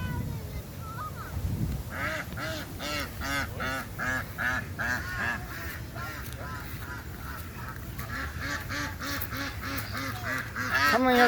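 Canada geese honk in a dense, repeated chorus close by, calls overlapping in quick succession with a louder burst near the end.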